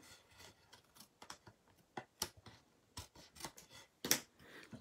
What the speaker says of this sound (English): We can just cut out this section.